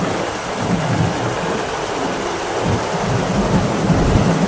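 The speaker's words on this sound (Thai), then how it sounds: "โดนฝนกันตัวหน้าเลย" Rain pounding steadily on the front of a rice harvester in a field, with low rumbling thunder rolling underneath; a dense, constant roar with no talking.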